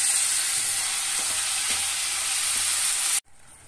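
Spices fry in a pan for chana dal palak, giving a loud, steady close sizzle with a few stirring scrapes before it stops abruptly.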